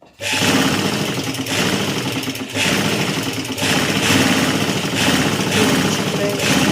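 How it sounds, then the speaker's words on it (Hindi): A sewing machine stitching a salwar belt, a fast mechanical whirring rattle in close, steady bursts with brief pauses between runs, loud and continuous with no speech. "ये देख लो अपना बेल्ट पूरा है। अब हम मारेंगे इसकी सिलाई।"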